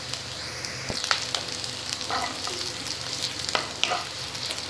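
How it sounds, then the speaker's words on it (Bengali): Chopped onion, ginger and green chili fry in a pan with a loud, continuous sizzle, broken by occasional clatter from stirring and sharp crackles, and no one speaks. "পেঁয়াজটা ফ্রাই হয়ে গেছে এবার আমি আদা কুচিটা দিয়ে দিচ্ছি আর লঙ্কা কুচিটা দিয়ে দিলাম"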